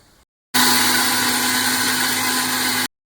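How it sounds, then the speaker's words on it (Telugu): A mixer grinder blends cut tomatoes and cashews into paste, a loud, steady motor whir starting abruptly, running evenly for about two seconds and cutting off sharply, with no talk. "తీసుకొని కట్ చేసేసుకొని మిక్సీ జార్లో వేసుకొని బాగా మనం పేస్ట్ కింద"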